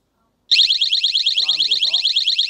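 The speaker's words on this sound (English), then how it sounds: "Alarm goes off" A loud electronic security alarm suddenly starts up, a rapid warbling siren that pulses steadily, with a brief voice underneath partway through.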